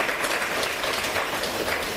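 An audience applauds at a ceremony marking five years of a public sanitation campaign, a brief, dense and steady wash of clapping from many hands.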